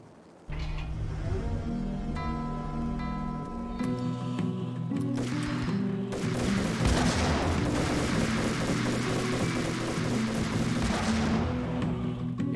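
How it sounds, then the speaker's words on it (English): Sustained gunfire from a helicopter in the video game Max Payne, loud and continuous, layered with booming impacts and a tonal musical backdrop that builds midway. "hide from the gunfire coming from a helicopter"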